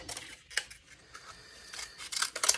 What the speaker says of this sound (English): Okay, and then I can go ahead and cut this.